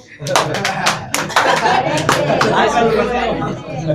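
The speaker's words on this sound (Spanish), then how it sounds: "Ese es un aplauso caluroso" Scattered claps and a church congregation's applause under murmuring voices, loud and close, continuing for several seconds.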